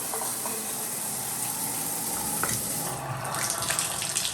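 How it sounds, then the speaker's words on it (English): Water runs steadily from a newly replaced bathtub spout, a continuous close splashing rush with small flickers of spatter throughout. "You can see the water is coming here."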